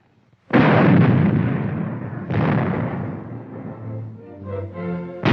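US Army tank main gun firing tracer projectiles: two loud, close booming blasts a couple of seconds apart, each with a long rumbling decay, and a third shot starting at the end.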